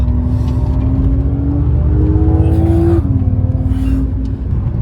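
A WEC endurance race car at the Qatar circuit, its loud engine tone climbing and shifting through braking and hard acceleration, close and continuous with a brief drop before revving up again.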